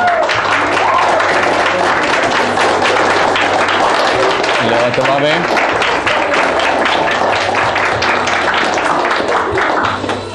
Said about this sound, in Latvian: Aplausi vēlreiz visām komandām.